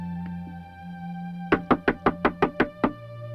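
Eight hard knocks bang on a closed door in quick succession, close and loud, following a steady low hum.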